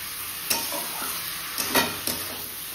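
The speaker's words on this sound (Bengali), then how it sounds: "আর একটু ভেজে নেব ভালো করে।" Curry is being fried in a pan in a home kitchen, a steady soft sizzle with a few sharp spatula scrapes and knocks spaced through it.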